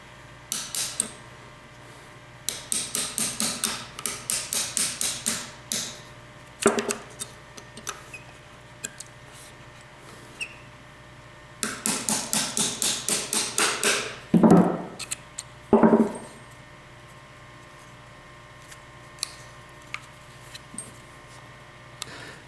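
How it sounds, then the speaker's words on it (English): Punch and hammer tapping out trigger pins on an XD45 pistol: bursts of rapid light metallic taps in quick rhythmic runs, separated by pauses and a few heavier knocks, close and alone. "with a punch and a hammer. They're not real hard to take out"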